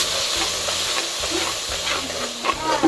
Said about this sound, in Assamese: সৰিয়হখিনি অকণমান মই ভাজি ল'ম